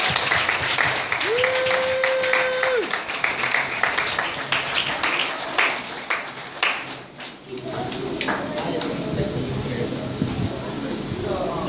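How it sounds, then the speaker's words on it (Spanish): Audience applause after a church skit about forgiveness, a burst of clapping rising and fading over about eleven seconds, with a pinging tone early on and voices mixed in. "Un aplauso para ellos."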